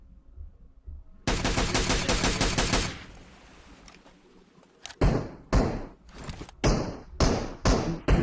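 Video game gunfire from a military bridge battle, a sustained full-auto burst roaring for about two seconds, then a quieter stretch followed by a series of sharp, loud single shots spaced close together.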